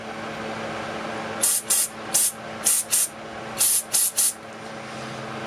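Eight short bursts of high-pressure spray hiss through a small carburetor idle jet from a Howard Price Maverick 620, in quick pairs and triplets, over a low steady background hum.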